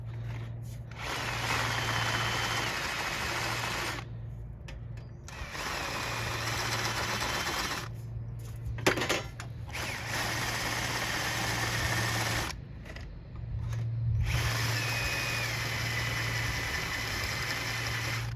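A power drill bores through a metal arcade control panel, whirring in long steady runs broken by short pauses, with a sharp grab and bite near the middle, close and fairly loud with no talk.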